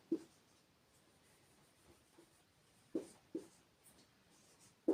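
Pen strokes on paper or a board produce several brief, faint scratchy taps at irregular intervals, with a pair close together midway and another at the very end, in an otherwise quiet room.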